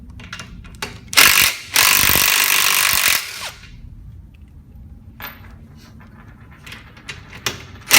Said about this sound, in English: We're going to start out removing the nuts from both sides of the pin while the lock pin is still in there